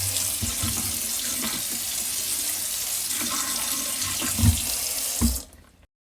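Water runs steadily from a bathroom tap as a surface is washed down, a constant close splashing rush with a few louder splashes near the end before it cuts off abruptly.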